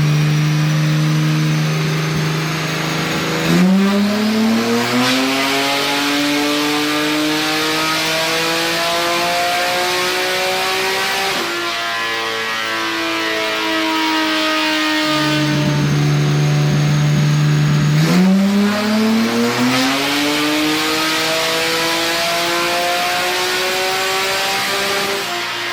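Supra engine on a dyno revving up through the gears in long sweeping pulls, a loud droning rise in pitch, a drop, then another climb, with no talk.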